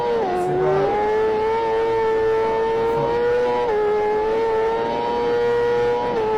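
Motorbike engines whine at a sustained high pitch while racing and drifting, loud and close, with the tone dipping slightly and then holding steady.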